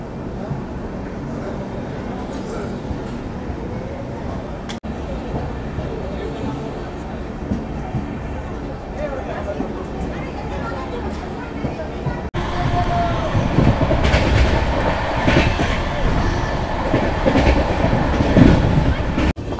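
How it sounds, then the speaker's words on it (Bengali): Humsafar Express train pulling out of New Jalpaiguri Junction, a steady rumble of wheels and carriage noise that grows louder and rougher partway through, with people's voices murmuring underneath. "কলকাতায় 3:11 আমাদের ট্রেন ছেড়ে দিল নিউ জলপাইগুড়ি জংশন থেকে"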